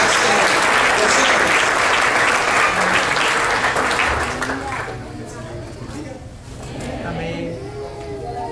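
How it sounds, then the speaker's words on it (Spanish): A church congregation applauds loudly and steadily for several seconds, the clapping thinning and fading toward the end while voices murmur underneath. "De un aplauso a Cristo"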